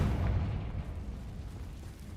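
A Confringo fire spell goes off in the Hogwarts Legacy video game as a heavy, booming blast that starts loud and rumbles down over two seconds.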